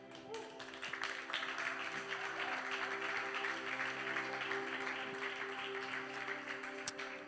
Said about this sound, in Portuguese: Vamos aplaudir a Jesus por essa noite.